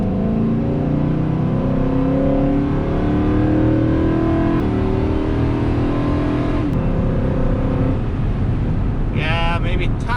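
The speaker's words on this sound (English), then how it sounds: "maybe tiny bit more engine sound, not much" A Chevrolet Silverado truck engine fitted with a Spelab cold air intake revs up and holds steady, a loud close rising drone with shifting pitch that runs for about ten seconds.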